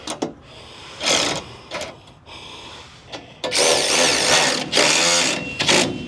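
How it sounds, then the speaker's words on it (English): A power tool tightens 3/8 bolts while side steps are installed on a Mahindra, running in several short whirring bursts of varying length with brief gaps between them. "We're gonna tighten these 3/8 bolts that we left."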